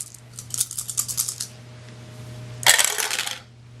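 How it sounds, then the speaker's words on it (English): Dice for a board wargame initiative roll tumble and clatter across a hard surface in two rattling bursts, one longer scatter followed by a sharper, brighter tumble, close and loud over a low steady hum. "Keep dropping the dice."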